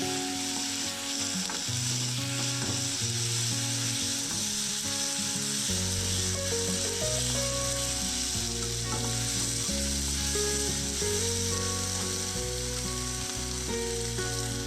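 Curry leaves, ginger, garlic and a green chilli sizzle and fry steadily in a pan for a potato and green peas fry, a dense continuous crackle with scraping stirring strokes, close and loud, with no talking.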